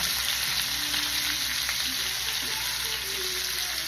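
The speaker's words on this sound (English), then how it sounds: "I'm gonna add the onion first and let that cook down just a little bit." Onion sizzles in melted butter in a pan, a steady, even hiss with occasional faint stirring scrapes, close and continuous for a few seconds without talk.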